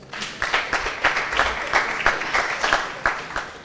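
An audience at an architects' panel in Barcelona applauds with sparse, uneven claps at a fairly close range, each one sharp and separate rather than blending into a roar.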